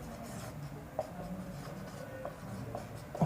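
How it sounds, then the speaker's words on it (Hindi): Writing on a board during a chemistry lesson: quiet scratchy strokes with a few sharper taps, faint and close, with no talking. "चलो मैं फिर से लिख देता हूँ"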